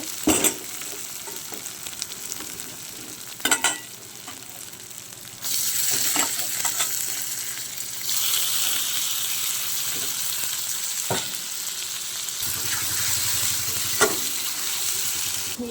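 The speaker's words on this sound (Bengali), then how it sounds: "মশলাটা আমার কষানো হয়ে গেছে। এই পর্যায়ে আমি মাংসগুলো দিয়ে দিব।" Mutton pieces dropped into cooked spice paste and fried, with a loud sizzle that swells as the meat goes in, broken by occasional stirring knocks against the pot.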